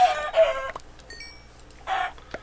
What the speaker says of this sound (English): Oh, more chickens.